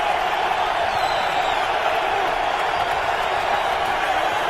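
Steady roar of a stadium crowd at a New England football game, Cleveland at New England, a broad constant wash of noise throughout with a commentator talking over it.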